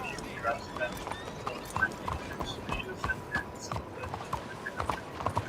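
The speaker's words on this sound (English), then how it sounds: "Come on, fucking stupid horse." Horse hooves clip-clop steadily in the video game Red Dead Redemption 2, a quick irregular gait of hoof strikes mixed with game ambience, with someone talking over them.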